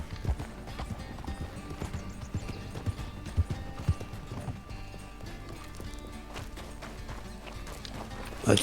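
A horse gallops in the Red Dead video game, its hooves making a steady, rhythmic clip-clop close by throughout, with faint tack and mechanical rattles and no talking.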